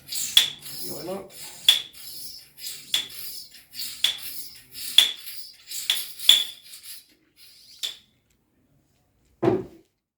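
A motorcycle fork damping cartridge from a Honda CRF300L K-Tech suspension upgrade, handled on a bench, gives a series of sharp metallic clicks and light scraping taps at an uneven rhythm, ending in a duller knock after a short pause.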